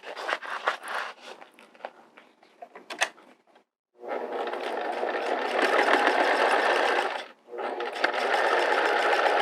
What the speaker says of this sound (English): I'm going to fold it in half and sew it in place right here.